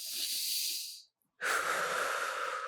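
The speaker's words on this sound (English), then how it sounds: "And just do some deep breathing while you're doing that." A group breathes deeply together, a long airy exhale, a brief silence, then a louder, fuller breath; close and alone.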